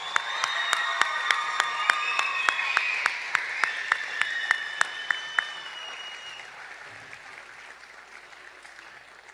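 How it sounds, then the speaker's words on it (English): An audience claps for the Teachers of the Year at an evening school-board awards ceremony. The applause is sustained, with sharp individual claps standing out near the front, then slowly thins and fades over the last few seconds. "Let's have one more round of applause for all our Teachers of the Year."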